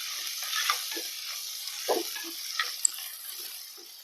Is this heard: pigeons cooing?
no